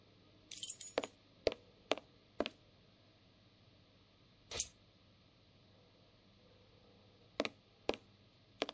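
A set of keys jangling in The Testament of Sherlock Holmes adventure game, a brief metallic rattle followed by a series of sharp clinks and ticks spaced out over several seconds against a quiet background.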